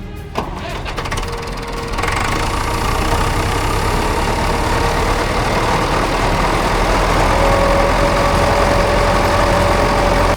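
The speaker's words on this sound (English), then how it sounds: "Let's fire up the engines and roll out." Big agricultural tractor engines crank over and catch, then settle into a loud, steady diesel rumble with a droning hum that holds for several seconds.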